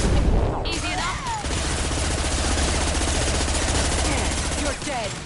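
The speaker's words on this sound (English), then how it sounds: "Taking heavy fire." Gunfire in the video game Mass Effect 2, a dense stretch of rapid automatic shots and bursts running almost continuously, loud and close, with brief swooshing effects near the start and end and occasional voice lines mixed in.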